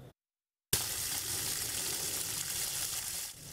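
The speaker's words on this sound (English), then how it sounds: "The sweet sound of running water, something residents say is a relief." A tap at a Kinston mobile home park runs after a short silence, giving a steady, close rush of flowing water that holds at an even level before easing off at the end.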